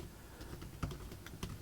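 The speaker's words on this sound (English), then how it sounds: "the moment I come down here and start typing The Hitchhiker's" Keys tapped on a computer keyboard while a book title is entered into a search field, a quiet run of soft irregular clicks with a couple of sharper strokes standing out.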